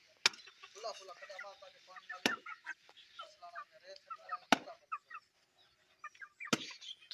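Chickens in a village yard cluck and call in quick broken bursts, fairly close, mixed with sharp periodic chopping knocks and occasional talk.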